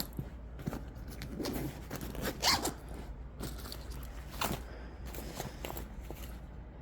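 A backpack pocket zipper is pulled open in several quick rasping strokes, close up, with rustling of fabric and handling between pulls.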